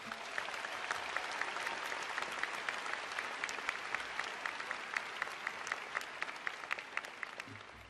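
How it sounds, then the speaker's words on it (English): Steady audience applause for the Golden Terps at a university engineering school spring commencement ceremony, fairly distant and even in level, with a few sharper claps standing out and no talk. "Let's give them a round of applause for being here today."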